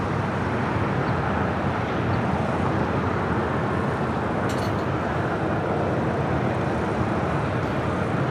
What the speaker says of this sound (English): 777 freighter next arrival here on the south side.